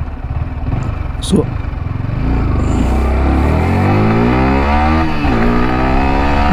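A Yamaha R15 V4 motorcycle revs in neutral, the engine climbing sharply through several rising and falling blips and ending in a loud, sustained high rev, close by, with a brief spoken word at the start.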